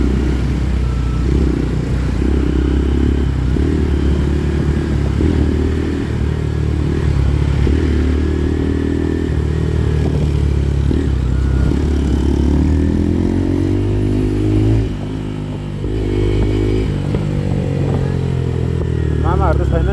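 A motorcycle fitted with a changed, modified exhaust rides along with a loud, deep, continuous rumble close by. Its pitch swells and dips as the rider works the throttle.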